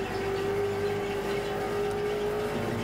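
Race car engine in the iRacing sim at Road America, a steady loud drone with a sustained tonal whine held throughout as the car slides sideways, with no pauses and no talking.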